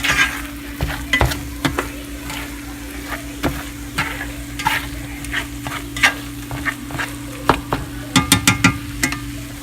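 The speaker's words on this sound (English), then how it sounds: "throw my meat back in, my eggs. Start to stir that around." Meat and eggs sizzle and fry in a pan for breakfast burritos while being stirred, with steady frying crackle under repeated sharp scraping clicks of a utensil against the pan.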